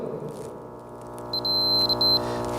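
A continuity tester gives a steady high electronic beep for about a second through an intact power fuse, then flickers briefly, over a low electrical hum.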